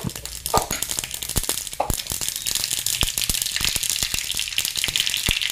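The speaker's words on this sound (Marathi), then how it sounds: "तेल छान तापलंय, मोहरी घालूया। अर्धा चमचा मोहरी" Half a spoon of mustard seeds crackles in hot oil, a hissing sizzle broken by sharp irregular pops that keep going throughout.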